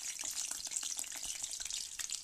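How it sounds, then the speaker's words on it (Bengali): Potatoes frying in hot oil in a wok, a steady close crackling sizzle with dense bubbling, constant in level from start to end with no voices. "পরিমাণ মতো আমি তেল দিয়ে দিয়েছি আলুগুলো ভাজার জন্য।"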